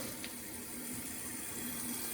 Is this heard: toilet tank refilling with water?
yes